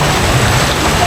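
Heavy typhoon rain pours down in a dense, loud, unbroken wash during Typhoon Carina, close and steady with a low rumble beneath.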